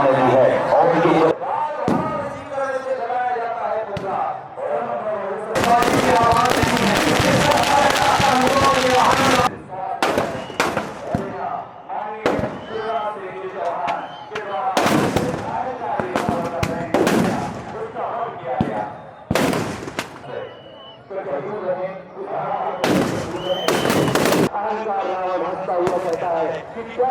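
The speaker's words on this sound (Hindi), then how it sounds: "आतिशबाजी, वो खुशियों की लहर है" Fireworks and firecrackers bursting at a Dussehra Ravana-burning celebration in Begumganj, with a dense crackling barrage and repeated sharp loud bangs scattered throughout, heard under continuous speech from an announcer.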